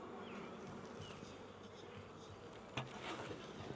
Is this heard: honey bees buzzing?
yes